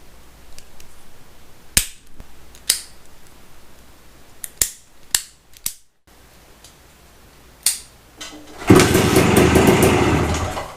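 A 1974 Honda MT250 with a 6-volt electrical system: several sharp mechanical clicks and snaps come first, then the single-cylinder engine catches and runs loud and close through the final two seconds, with no talking.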